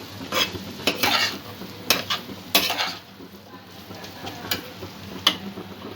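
Bread pulao ingredients with a spoon of tomato ketchup stirred and mixed in a pan, scraping and clinking spatula strokes in an irregular rhythm over a faint sizzle, close and moderately loud, with no talking.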